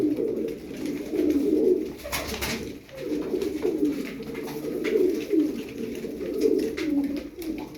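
Çakmaklı pigeons from a group of ten coo continuously at close range, their low rolling calls rising and falling in overlapping phrases over a faint background.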